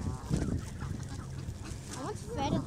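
Geese and ducks honk and squawk in bursts while being fed bread on a cool, windy Sunday afternoon, the calls close by amid steady wind noise and background voices.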